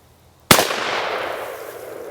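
A single sharp, loud shotgun blast firing 7.5 shot at a target on a range, with a long rolling echo trailing off afterward.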